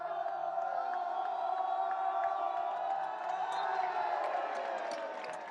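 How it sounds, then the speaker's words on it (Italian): Football fans at a Sicilian Promozione match cheer, whoop and shout in a sustained crowd roar at a celebration, with some scattered claps within the steady din. "Gli applausi dei tifosi, gli applausi della festa"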